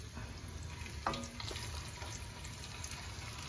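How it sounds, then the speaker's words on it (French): Veal shanks drop into hot oil in a pan, setting off a steady crackling sizzle, with a brief clatter of the meat going in near the start, close and moderately loud, with no talking. "Quand l'huile est chaude, on va les mettre à revenir dedans."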